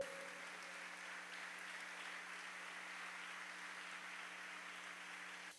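Audience applause at a Christian seminar, a steady, even wash of clapping that stays fairly faint and continuous throughout with no voices over it.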